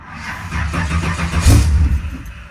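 A 1957 Chevy engine with a red top battery cranks hard and nearly catches, its loud, close starter churn swelling into a brief sputtering surge before fading back, with no talk over it.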